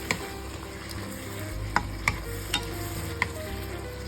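Chopped leeks stir-fried with oyster sauce sizzle steadily in a pan, with a few sharp utensil taps and scrapes sounding at irregular moments over the constant frying hiss.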